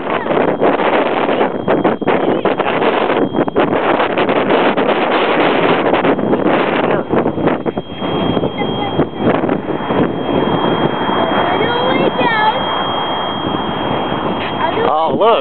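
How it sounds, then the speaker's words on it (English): Strong outdoor wind buffets the microphone in a loud, continuous rush during a toy rocket launch, with people talking over it throughout. "Oh, look, the wind is blowing it."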